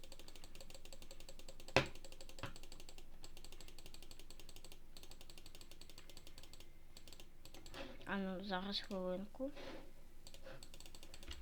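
Rapid clicking to rack up points in a leg-training game, quick mouse or key clicks ticking steadily throughout, with one sharp louder tap early on and someone briefly speaking near the end.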